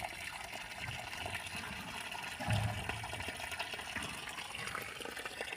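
Water is poured onto a home flower garden, making a soft, continuous splashing and trickling with a brief heavier gush partway through, heard faintly at close range.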